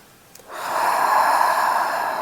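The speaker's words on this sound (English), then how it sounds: "Take a deep breath." One long, deep inhale drawn in close to the ear, starting after a brief hush and swelling into a steady airy rush that holds to the end, loud and alone.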